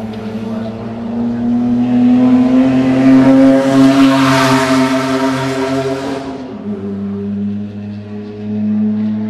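A race car roars past at close range during a race, its engine note rising to a loud peak and then dropping sharply as it moves away, followed by another engine approaching.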